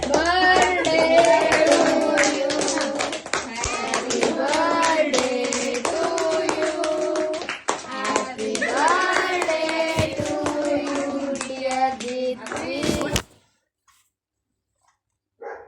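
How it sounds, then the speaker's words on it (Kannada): A family claps together at a home birthday celebration, scattered hand claps running beneath loud, tonal singing for about thirteen seconds before everything cuts to near silence. "ನಿಮ್ಮಿ ನಿಮ್ಮಿ ಎಲ್ಲರೂ ಚಪ್ಪಾಳೆ ಹೊಡಿದ್ರೆ"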